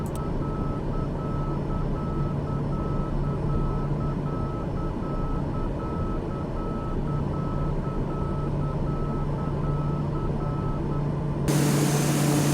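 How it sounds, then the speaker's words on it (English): Faint, evenly spaced high-pitched beeps from a middle marker beacon in a flight simulator game repeat steadily over a continuous engine-like hum, then stop abruptly near the end. "That faint beeping noise you heard was us passing over the middle marker"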